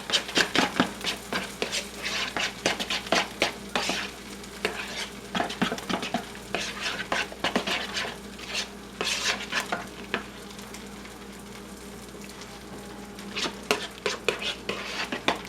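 A spoon whisks and stirs sauce in a bowl for corned beef sandwiches, giving rapid repeated clinks and scrapes against the sides, close and steady throughout with no speech.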